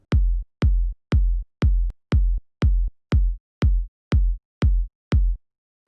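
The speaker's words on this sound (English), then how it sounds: "And this kick sounds like this." A punchy electronic melodic techno kick drum repeating eleven times at a steady, even pace, each hit deep and short with silence between.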